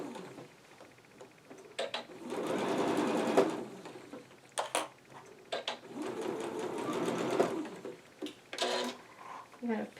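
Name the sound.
sewing machine stitching a mask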